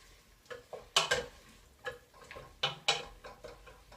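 A spoon mixes coriander into carrot soup in a metal pot, a handful of quiet scraping clinks and taps at an irregular pace.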